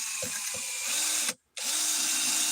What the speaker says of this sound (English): The trick when you're drilling a hole like this, you don't force it, because this bit is not very sharp